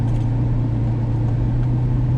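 A 2020 Ferrari 812 Superfast pulling away softly and gently off the line, a steady low engine drone with a constant deep tone, loud and close, with no talk.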